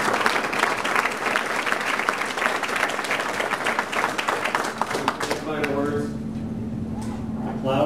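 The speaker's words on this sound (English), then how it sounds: "let's give Brian Beecher one big round of applause" An audience gives a speaker a warm round of applause at a tech talk on cloud computing, dense clapping filling the room before it thins and fades in the last few seconds.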